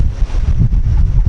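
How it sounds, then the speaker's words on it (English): Strong wind gusts from Mediterranean hurricane Zorbas buffet the microphone on a sailboat, producing loud, continuous low-pitched rumbling and thumping that swells and dips throughout. "the gusts are blowing the camera out of my hand"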